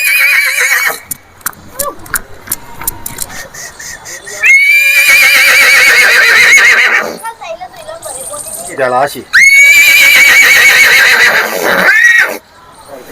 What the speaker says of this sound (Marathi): हा जो घोडा आता आपण बघितला होता मोठा